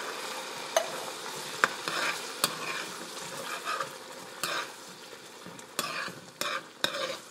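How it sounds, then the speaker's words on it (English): A spoon stirs canned kidney beans with their liquid and garlic in a pot, giving soft wet swishing broken by a series of sharp clinks against the pot, with no talking. "Just kind of give it a stir."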